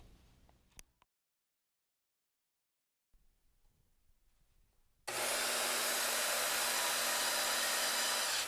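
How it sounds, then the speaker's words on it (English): A brief clatter and then a quiet pause before a jigsaw converted from a sewing machine whirs to life with a loud, steady mechanical buzz that runs without letup. "this is my jigsaw converted sewing machine"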